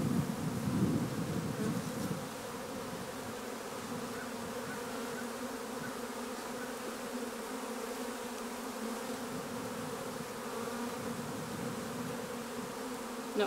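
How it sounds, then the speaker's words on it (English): Honeybees swarm around an open hive during installation of a second colony, a dense, continuous buzz close by that holds steady throughout, with no one speaking. "There is definitely a lot of buzzing going around."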